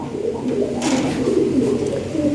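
A Lahore Siraji pigeon coos close by in a low, rolling, continuous murmur, with a brief breathy rustle partway through.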